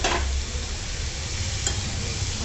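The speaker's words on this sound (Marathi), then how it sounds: "आता किस अगोदर छान परतवून घ्यायचा" Grated bottle gourd sautéed with onion and turmeric in a pan, giving a loud, steady sizzle and frying hiss close up, unbroken for the whole moment, with no voices.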